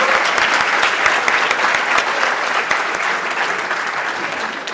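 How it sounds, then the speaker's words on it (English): An audience claps after a debate on the existence of God, with steady, dense applause filling the hall from start to finish. "can everyone give them another round of applause?"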